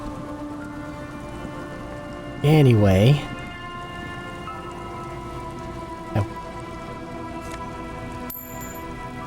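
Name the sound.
rain ambience in the video game Disco Elysium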